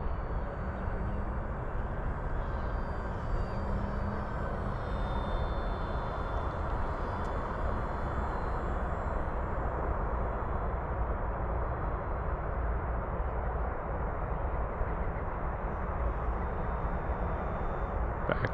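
An FMS Cessna 182 1.5 m RC model airplane flies with its electric motor droning continuously at a moderate distance, the steady whine and hum rising slightly as the throttle is eased back up.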